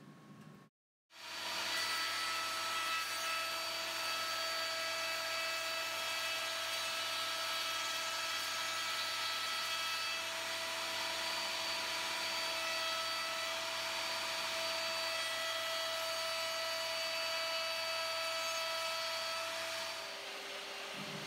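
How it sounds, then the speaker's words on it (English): A router spins up and cuts along a wooden picture frame board, a loud, steady high-pitched whine with a constant tone, close by, running continuously for about twenty seconds before winding down. "For the last router operation, we are moving the fence back"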